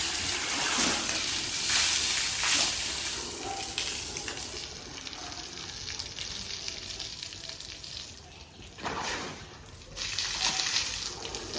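Water splashes and pours continuously over an elephant's body, a broad hissing wash with brief louder gushes, close by and without talk.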